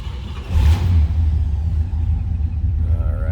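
1957 Pontiac Star Chief Catalina idling, a deep steady low rumble from the engine with a brief swell at the start, close and continuous throughout.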